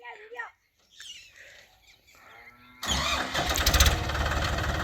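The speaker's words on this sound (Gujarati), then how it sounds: "4x4 ટ્રેક્ટર લાવ્યા છે અમારા ખેડૂત." A 4x4 tractor engine on a farm in Gujarat cranks and catches, then runs loud and steady at close range; people talk briefly before it starts.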